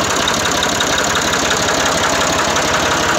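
A 1981 IMT 540 tractor engine idling steadily, loud and close, with an even, rapid knocking diesel chug and a continuous rattling vibration, no voices over it.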